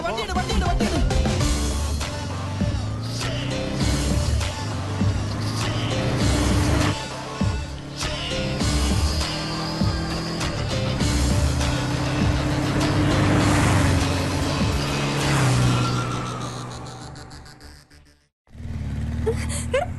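A car driving with a steady engine drone and shifting tones, loud and close, under excited talk from people in the scene, cutting out abruptly near the end.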